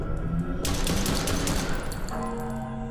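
Rapid gunshots ring out in the horror video game Chuxie, a tight burst of several close, sharp shots lasting about a second and a half over a steady background tone.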